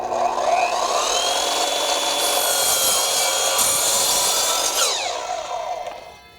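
An Evolution multi-material miter saw slices through a wood board, knot included, with a steady, loud cutting roar that holds for about five seconds and then winds down as the blade spins to a stop.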